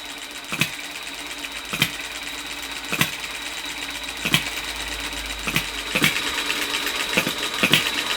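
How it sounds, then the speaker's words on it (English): Model hit-and-miss engine, a Bull Top B01, driving a miniature workshop: regular sharp firing thumps about once a second over a continuous light mechanical whir, close and clear. "In this instance, the lovely bull top hit and miss engine,"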